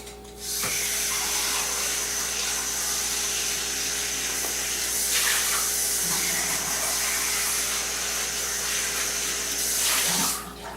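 Water runs steadily from a kitchen tap into a sink while a food processor bowl is rinsed out after chopping onions, a continuous hiss lasting throughout with a few brief clunks of the bowl.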